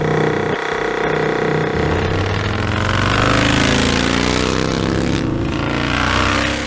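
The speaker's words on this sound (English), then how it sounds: "The Vincent Black Lightning is among the most legendary motorcycles in history" A 1950 Vincent Black Lightning motorcycle engine runs loudly and continuously close by, a rough, throbbing roar that holds steady with slight rises in intensity.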